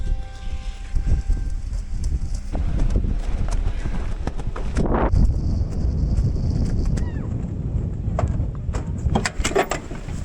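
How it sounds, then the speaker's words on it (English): Strong wind buffets the microphone on a high-altitude narrow offroad trail near 13,000 feet, a steady loud rumble running the whole time with a vehicle and some voices underneath. "I'm gonna do my best to block the wind"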